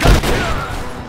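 Gunfire in Rise of the Tomb Raider during an ambush, a loud, close, heavy boom followed by a rolling echo that fades within a second.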